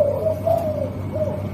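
A pair of pet doves caught in the wild, recently trapped, coo close by. Soft repeated coos in a gentle rhythm play over a low steady hum.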